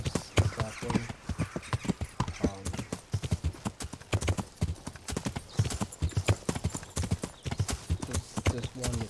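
Horse hooves clip-clop steadily through a medieval role-playing game, Kingdom Come, a fast rhythmic trot of sharp hoof strikes running the whole stretch, with voices talking over them and an occasional whinny.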